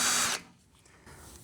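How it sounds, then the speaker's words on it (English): A power drill bores a hole in metal while working on a Lancer car, the whine loud and close for a short burst, then cutting off into quiet. "I got to drill 2 more"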